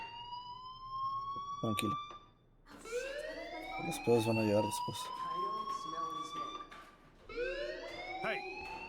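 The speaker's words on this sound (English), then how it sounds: "do you hear that fire alarm?" A fire alarm rings in the Life is Strange video game, a rising and falling electronic whoop that sounds in repeated sweeps, with voices talking over it.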